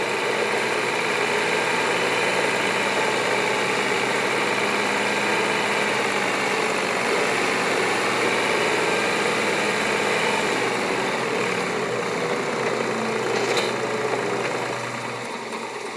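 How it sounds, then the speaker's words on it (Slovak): A tractor engine idles steadily, a loud continuous mechanical drone that holds without a break and eases slightly toward the end, heard alone with no talking. "odložím tento traktor."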